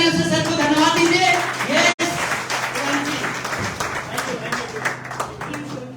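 An audience at a motivational business event breaks into loud applause to thank the speaker, a dense patter of clapping with voices talking over it.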